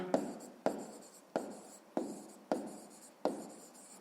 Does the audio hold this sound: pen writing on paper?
yes